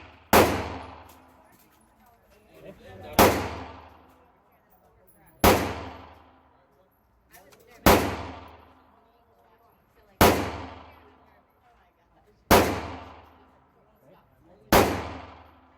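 A NAK9 Draco and an MBS95 Hi-Point fire at an outdoor range, seven single sharp gunshots spaced about two seconds apart, each with a short decaying echo, fairly close.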